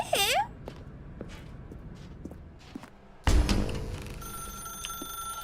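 A telephone rings in The Stanley Parable: Ultra Deluxe, a sustained steady ring after a loud thud, preceded by footsteps and a sweeping tone in a quiet, dim room.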